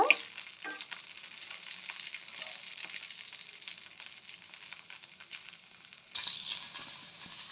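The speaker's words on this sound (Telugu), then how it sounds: "ఇలా ఫ్రై చేసుకోవాలి. పెంకు మీద" Green chillies frying on a clay pan for a chutney: a continuous close hiss and sizzle with occasional stirring scrapes, louder near the end.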